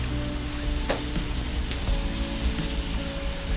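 Potato pancakes sizzling and frying steadily in a pan, a continuous close crackle with a few sharper pops and no talking.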